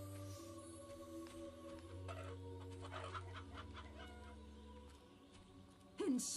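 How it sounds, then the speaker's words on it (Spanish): A chicken clucks in the Fable Anniversary video game, soft repeated clucks over a low droning game ambience, with a louder burst near the end. "A las gallinas podemos pegarle patadas,"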